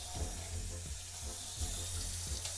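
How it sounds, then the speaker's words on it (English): A kitchen tap runs steadily as a knife is rinsed beneath it, the splashing stream broken by a few soft knocks and clatters close by. "I'm rinsing my knife off."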